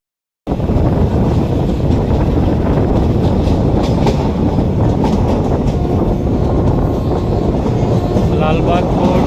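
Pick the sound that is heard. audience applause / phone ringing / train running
train running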